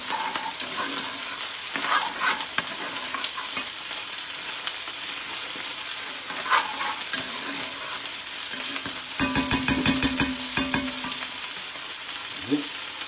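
Garlic sizzling and frying in a pan while being stirred for chicken curry, a steady crackling hiss broken by scraping stir strokes and a brief burst of clattering near the end, with no talking.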